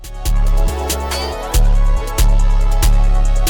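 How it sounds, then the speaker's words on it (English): A heavily distorted CTM 808 kick plays in a UK underground beat, booming hits repeating in a quick steady pattern, loud and close, each one panned hard to alternating ears. "So yeah man, it's simply just a CTM 808."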